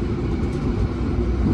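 Cabin of the KA Fajar Utama Solo passenger train at high speed, a steady loud low rumble and roar of wheels and track heard from inside the carriage, with no voices.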